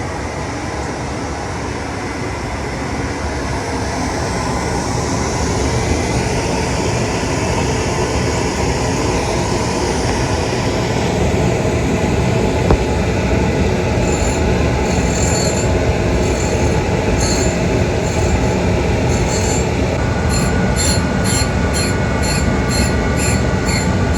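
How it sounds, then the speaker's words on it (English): A diamond dresser trues an aluminum oxide grinding wheel on a tap-sharpening setup, giving a loud, continuous abrasive grinding roar with a high, steady screech that intensifies toward the end, with no talking. "I'm going to give it a little lick with my diamond dresser, get it running true"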